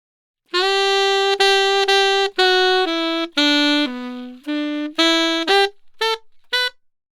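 A saxophone plays a slow phrase of sustained, reedy notes, some slurred together, ending with a few short, lighter notes before silence.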